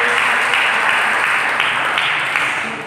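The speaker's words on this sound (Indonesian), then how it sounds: "Berikan tepuk tangan bagi Yesus." A church congregation applauding during a worship service, a dense, even wash of many clapping hands that stays loud and steady, easing off slightly at the end.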